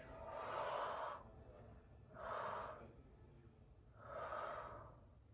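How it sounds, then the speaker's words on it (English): Slow, deliberate exhales in a rehabilitation mat yoga class: three breathy rushes of air, each close and gentle, separated by short near-silent pauses in a calm indoor space. "and exhale out."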